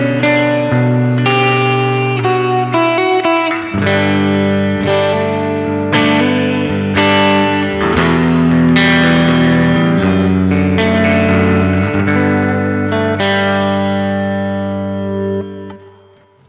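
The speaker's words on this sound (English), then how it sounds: "now I turn the reverb almost all the way up on the Bass Katana" Chords on a Puresalem La Bruja electric guitar, played loud through a Bass Katana amp with reverb almost fully up and some distortion, each strum ringing out in a long wash before fading.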